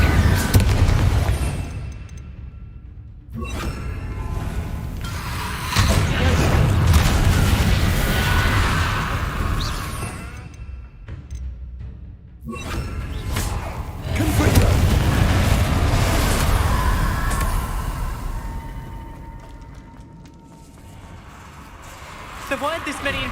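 Confringo fire spell blasts in the Hogwarts Legacy video game, a run of booming, rumbling explosions with crackling bursts, loud and dense, returning in waves over game noise with talk mixed in.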